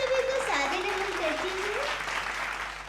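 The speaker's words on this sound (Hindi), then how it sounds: "जोरदार ताली से स्वागत करिए आप काव्यश्री जैन" Applause from the audience at a Hindi poetry gathering welcoming a poet to the stage, heard under a sustained melodic tone of music, fairly close and even for a few seconds.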